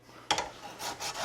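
A hand file rasps rust off the brake parts of a 2019 Kia Soul, one sharp double stroke followed by a longer, gentler scraping pass, close and clear with no talking.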